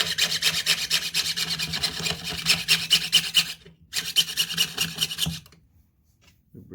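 A saw blade rasps steadily through metal held down by hand, a dense, loud back-and-forth scraping that stops briefly near the middle, resumes for over a second, then ends in near silence.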